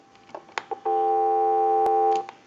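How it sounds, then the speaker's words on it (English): An AT&T 530 Trimline telephone gives a steady, clear dial tone for about a second and a half, with a few soft clicks from the handset before and after it. "We have dial tone"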